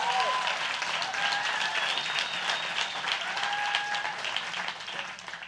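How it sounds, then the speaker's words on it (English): A church congregation gives the worship team sustained, full applause, dense clapping holding steady with a few whoops and cheers rising above it before easing slightly at the end. "Can you give our worship team a good round of applause?"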